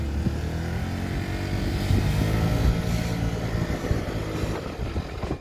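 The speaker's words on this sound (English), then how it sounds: "pull the brake, hit the start button, she fires up" A Honda Metropolitan 49cc scooter engine idles steadily right after starting, a close, continuous buzzing putter at an even level with no talking.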